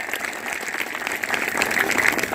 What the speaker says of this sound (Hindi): मैं चाहूंगा आप सभी लोगों से इनके लिए भी दिल की गहराइयों से एक बार जोरदार तालियां हो जाएं।